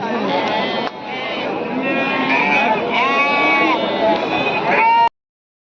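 Sheep and lambs at the Mudhol sheep market bleat repeatedly and overlap in a dense, close chorus, with crowd chatter and voices mixed in throughout.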